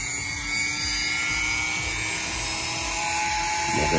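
A high-pitched Dremel rotary tool whines steadily while sanding the metal of a 1956 Ford pickup, with short scraping pulses and a slight rise in pitch near the end.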